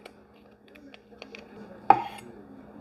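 A sharp knife slices thin pieces of fresh mozzarella on a cutting board, with a few light taps and then one distinct louder cut, close and otherwise quiet.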